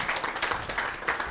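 Brief applause from a conference audience for the panelists, a steady, moderately faint patter of many hands clapping that stays even, with no speech.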